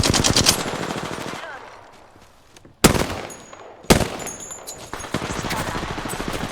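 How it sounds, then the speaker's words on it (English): Rapid machine-gun bursts from enemy fire in a video game shootout, loud and close, with sharp single shots and pauses between the volleys. "Enemies are shooting at me."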